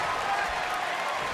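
Wrestling event crowd roaring and cheering, a continuous wall of loud, dense crowd noise with no break through the short stretch.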